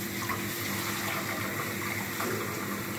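Steady rushing water runs continuously, close by, like liquid pouring from a tap or container, with no voices.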